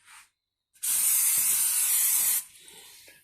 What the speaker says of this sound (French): moi, j'utilise du PAM, hein, de cuisson